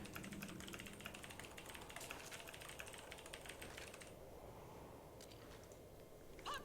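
Rapid keyboard typing during a competitive online game broadcast, steady clicking keystrokes close up and fairly quiet, thinning out in the last couple of seconds against a faint background hum.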